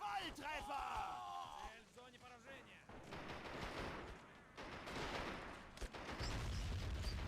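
Gunfire from snipers and troops in a real-time strategy battle game, dense crackling shots and bursts running throughout, layered over music and a commentator talking.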